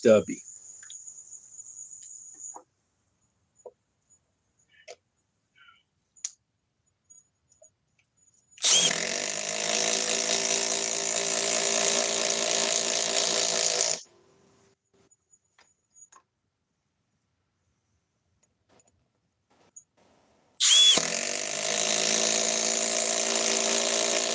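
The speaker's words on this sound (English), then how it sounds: "Let us switch over to the Milwaukee stubby." A Milwaukee stubby impact wrench runs in two loud, sustained bursts of rapid hammering whir, several seconds long, separated by near silence with a few faint clicks and handling knocks; no speech.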